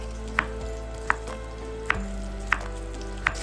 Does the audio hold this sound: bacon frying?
yes